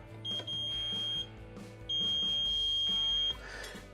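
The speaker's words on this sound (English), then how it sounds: "So use your meter. This one will go by audible tone." A multimeter's continuity tone sounds during a Maytag stove element repair, two steady high beeps, each lasting over a second with a short gap between, faint over low background hum.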